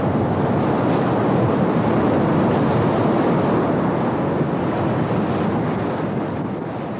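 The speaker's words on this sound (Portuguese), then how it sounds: "O Oceano Pacífico açoita constantemente a costa oeste da América do Norte" Pacific Ocean surf pounding the west coast of North America, a loud, continuous roar of breaking waves with steady wind rush and no voices.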